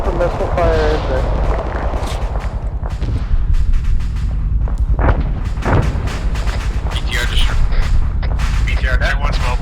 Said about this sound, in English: What type of missile fire is it?